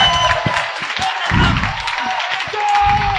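A classroom of students clapping for a fellow student, a short burst of dense applause close by, with a voice speaking over it.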